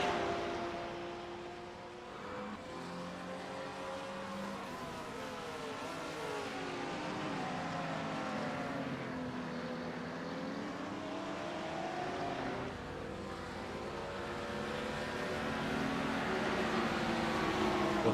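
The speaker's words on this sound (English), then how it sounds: "We got 2 Porsches battling out for a position there." Two Porsche race cars battling for position in a GT3 Open round, engines droning and rising and falling in pitch as they rev and shift, heard at a moderate distance as a steady layered whine.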